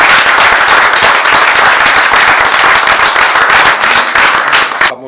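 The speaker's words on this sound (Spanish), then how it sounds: "Incluso le vamos a dar un aplauso." Dense, loud applause from an audience at a book presentation, many hands clapping steadily and close for several seconds before cutting off abruptly.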